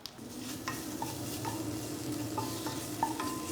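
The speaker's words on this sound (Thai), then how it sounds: "เดี๋ยวผมจะเอาน้ำมันนะครับ เทลงไปใน หม้อของเราก่อนนะครับ แล้วก็ ใส่พริกแกงของเราลงไปผัดนะครับ" Thai curry paste stir-fried in oil in a pot, with a steady close sizzle broken by repeated scraping and clinking strokes of a utensil against the metal.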